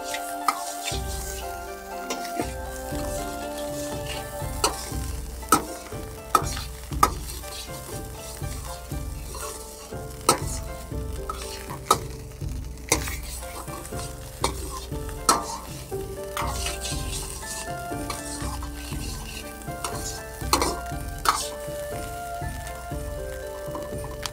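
Nasi goreng fried rice stir-fries over very high heat, a dense continuous sizzle broken by frequent sharp scrapes and taps of a spatula against the pan, close and steady with no talking.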